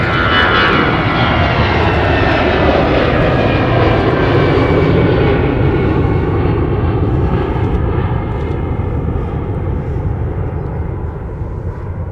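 Airplanes taxiing out for departure at Minneapolis–Saint Paul airport make a loud, steady engine roar that fills the whole stretch and fades slightly toward the end.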